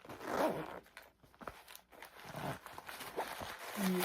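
A zipper being worked on a Louis Vuitton removable zip pouch, giving a few short rasping pulls with small handling rustles between them, close and fairly quiet.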